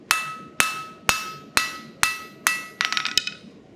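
A blacksmith hammering metal cold to crisp its edges, six evenly spaced ringing strikes with bright metallic overtones, then a quick flurry of lighter taps and one last clang, close and loud.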